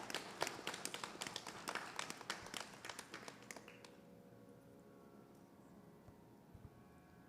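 Audience at a Sunday morning Krishna temple service clapping to welcome a speaker to the podium, a moderate burst of scattered claps that stops partway through, leaving quiet room tone with a faint hum.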